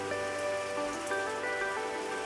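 Rain patters on a surface as a dense, even hiss, fairly close and steady, with faint sustained tones humming underneath and no voices.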